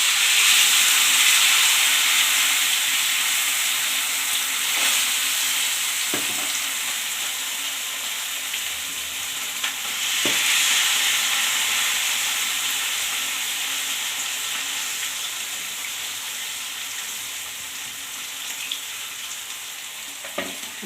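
Chicken kababs fry in hot oil with a steady hiss and crackle that fades slightly over time, broken by a few sharp clinks of utensils; no one speaks.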